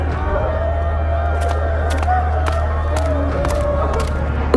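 Crowd gathered around a house in a horror story, a continuous murmur of many voices with scattered shouts, loud and close.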